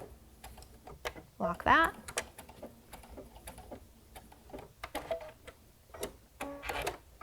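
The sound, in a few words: sewing machine stitching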